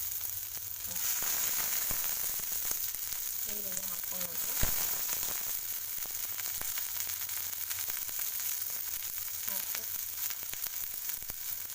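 Chopped onion and green chilli fry in hot oil with mustard seeds and cumin for bread toast, a steady close sizzle and crackle running throughout, with brief speech and a light clink of stirring.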